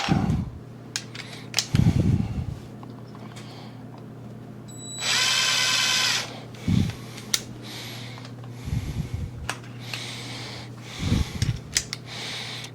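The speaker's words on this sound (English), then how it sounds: "Now I'm going to get a pilot bit for the other one." A drill bores a pilot hole for a screw while building a squaring sled, one short high whirring burst in the middle, set among handling clunks and thumps.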